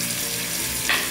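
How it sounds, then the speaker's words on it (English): Food being stirred in a pan, a steady close sizzle with a brief brighter scrape near the end, no voices. "And then we stir this all up."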